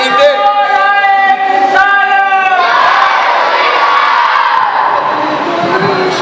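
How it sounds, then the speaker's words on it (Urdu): A crowd inside a mosque loudly chants a religious slogan. A drawn-out leading call gives way to a dense, roaring mass response that fills the space. "حضرت کے استقبال کے لیے بلند آواز سے نعرہ لگایا جائے"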